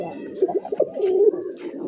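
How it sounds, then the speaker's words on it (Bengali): A sky-blue Golla pigeon with a pitcher-shaped neck coos close by, giving a few soft, throaty rolling calls in quick succession with no talking. "দেখতে পাচ্ছেন স্ক্রিনে কলসি গলা আকাশি কালার গোল্লা কবুতর, খুব সুন্দর ডাকে দেখেন।"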